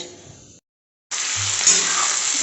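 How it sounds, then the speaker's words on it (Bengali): Chopped onions fry in a pan as a base for butter paneer, making a loud, continuous sizzling hiss that breaks off briefly into silence and then returns stronger. "পেঁয়াজটাকে ভালো করে ভেজে নিচ্ছি"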